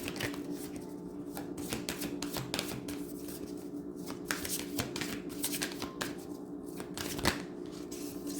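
Tarot cards are shuffled by hand in a steady series of soft riffling and slapping passes, close and quiet against faint background hum, with no talking.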